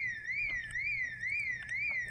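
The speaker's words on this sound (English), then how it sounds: "burglar alarm house" A burglar alarm going off in a house in the Project Zomboid video game, a loud electronic siren sweeping up and down in a steady repeating wail with no talk.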